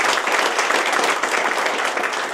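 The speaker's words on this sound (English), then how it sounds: "I request all of you to have a huge applause for Dr. M.M." A conference audience applauds in a dense, continuous wash of clapping, loud and even throughout the short burst.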